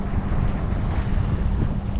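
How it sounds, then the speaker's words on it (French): Steady, heavy, shifting wind at Gibraltar buffeting the microphone, a continuous low roar with faint water or boat noise beneath, no voices. "le vent il change de tous les sens"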